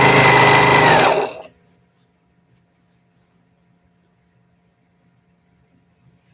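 A fast sewing machine running at 1,600 stitches per minute stitches quilt border pieces in a loud, high, whirring burst just over a second long, then stops and leaves near silence.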